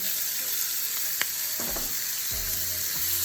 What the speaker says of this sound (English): Our peppers and onions, we have butter and a little bit of canola oil in our pan.